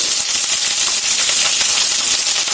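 Carrots sizzling in a pan over high flame while cooking upma, a steady, loud hissing fry with crackly spatter throughout, no voices.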